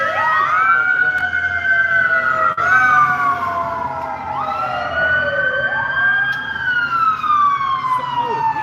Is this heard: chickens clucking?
no